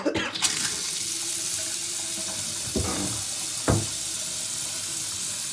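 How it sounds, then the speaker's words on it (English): Water runs steadily from a bathroom faucet fitted with a newly replaced Delta cartridge, a close continuous hiss with a few brief knocks and splashes. "Now we can turn the water on."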